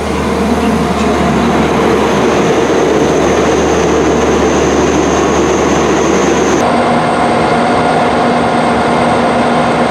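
Enterprise intercity train from Belfast pulling into its terminus, a steady loud rumble of wheels and carriage noise throughout, with a constant high whine that shifts in pitch partway through as the train slows.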